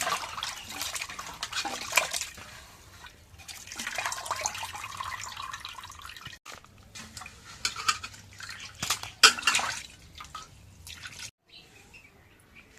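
Cut fish pieces washed in water for a fish curry, with clinking of pots, metal utensils and dishes, splashing and dripping close by, busy and continuous with short pauses.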